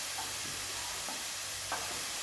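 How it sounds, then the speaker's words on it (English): Meat sizzles in a hot pan with a steady, dense hiss, close and continuous, with a few faint stirring clicks over it. "I think mine's just about ready to sizzle."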